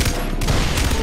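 Enemy gunfire crackles in a burst of Far Cry 3 combat, a short dense volley of overlapping shots, loud and sustained for about a second.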